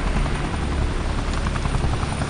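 Helicopter in the video game Vivisector: a loud, close, steady rotor thrum with a dense chopping roar that holds level throughout, and nobody speaks over it.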